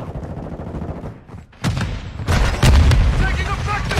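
Heavy gunfire and booming blasts in the shooter game Call of Duty: Modern Warfare II, loud bursts and sharp cracks building after a brief lull, with game voices calling out amid the shooting.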